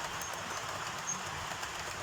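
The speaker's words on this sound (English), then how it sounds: "Good shot here with the trains coming round" Digital model trains run around a model railway layout, giving a steady, close rumble with faint rail clatter that fills the moment without any talk.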